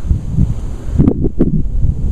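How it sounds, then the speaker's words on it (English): Gusty wind buffets the microphone outdoors on a clear December day, a low rumbling roar that swells in a couple of stronger gusts, close and loud, with no talking. "A little bit windy, but not too bad."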